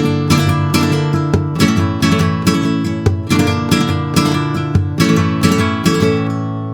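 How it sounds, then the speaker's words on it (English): Flamenco guitar strumming a tangos groove, with a percussive golpe on the guitar top and rolling molinillo rasgueo strokes repeating in a steady rhythmic cycle, loud and close with no talk. "In tangos we always do a golpe on the first beat."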